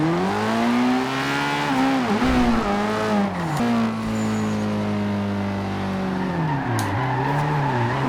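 A Nissan S15 drifting in Forza Horizon 2, engine revving high with tires squealing in long sliding bursts, pitch rising and dipping with throttle changes, close and continuous without talk.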